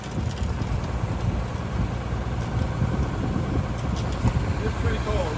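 Vehicle engine idling at a raised, fast idle on a cold day, a steady mid-low rumble with a faint rattle, constant and close, with background talk.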